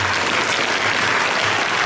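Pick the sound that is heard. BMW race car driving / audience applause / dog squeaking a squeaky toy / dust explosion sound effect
audience applause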